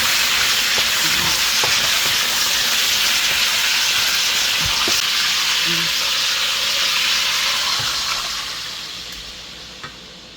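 Garlic toasting in a pan for pork pata estofado gives a steady, fairly loud broadband sizzle with occasional stirring clicks, easing off slightly toward the end.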